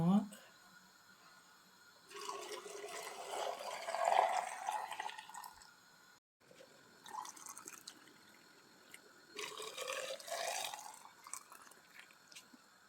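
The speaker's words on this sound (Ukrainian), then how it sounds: "Я чайник нагріла і заливаю, щоб вони трошки пропарилися" Boiling water pours and trickles from a kettle in two bursts, splashing into glass jars at close range, with a short pause between them and a faint voice at the start.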